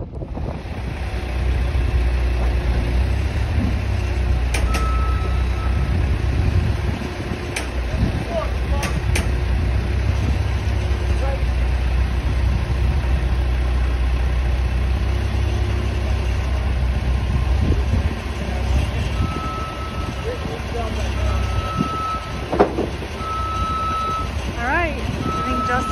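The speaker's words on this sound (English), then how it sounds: "gonna move his truck" A truck backs up on a farm, its reversing beeper sounding as steady intermittent tones over a constant low engine rumble and wind noise outdoors.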